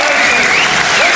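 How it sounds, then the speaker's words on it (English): Crowd applause in a sports pavilion at a women's boxing bout, loud close continuous clapping filling the whole short burst. "the pavilion stands, applauds"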